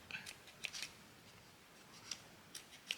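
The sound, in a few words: scissors trimming paper for journal binding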